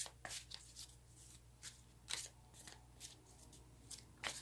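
Tarot cards are shuffled by hand close up, giving repeated quick riffling and slapping bursts at an irregular rhythm, fairly quiet, with no talk.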